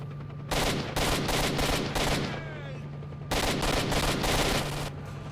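Rapid automatic gunfire bursts in the video game STALKER, two long loud volleys of repeated shots with a steady background hum between them.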